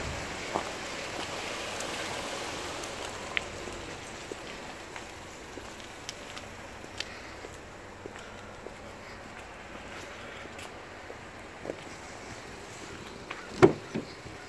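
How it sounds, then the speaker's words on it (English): Steady rain patters on a 2017 Buick Encore, a soft, even wash of drops with occasional louder taps close by and no talk. "Of course, it's a rainy day here."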